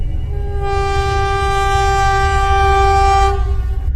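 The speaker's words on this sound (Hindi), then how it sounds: "हमारी ट्रेन पुल के ऊपर से गुजर रही है।" Train crossing a bridge, a loud continuous rumble of wheels with a long sustained horn blast sounding over it, close and steady throughout.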